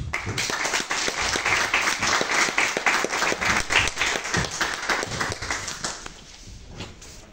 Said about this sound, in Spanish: terminaría pidiendo un fuerte aplauso para el Azar.